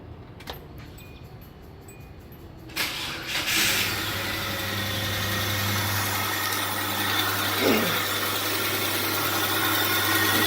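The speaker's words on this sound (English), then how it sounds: "Okay, let's start the engine." A 2002 Hyundai Santa Fe with a no-power fault cranks briefly and catches. It then settles into a steady, close, rumbling idle that runs on evenly with no talk over it.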